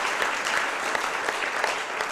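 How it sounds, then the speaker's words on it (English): An audience at a film festival applauds the Master of Ceremonies with a dense, steady wash of clapping, moderately loud and without talk. "Can we give a round of applause for our Master of Ceremonies"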